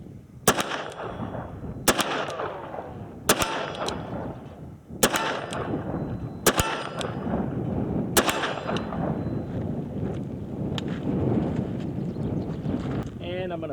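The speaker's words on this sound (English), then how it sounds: "I'm going to do a cylinder of 357 Magnum single action at the 25 plus yard" Six loud, sharp revolver shots from a 1979 Colt Python firing .357 Magnum single action at an outdoor range, spaced roughly every one and a half seconds, each with a ringing decay, over wind and faint background noise.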